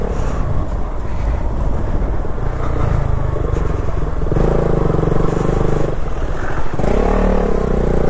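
A KTM Duke 200 motorcycle is ridden on a road through a busy temple area, its engine note rising and falling through the gears under heavy wind buffeting on the microphone.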